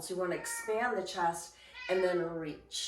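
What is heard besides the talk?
cat meowing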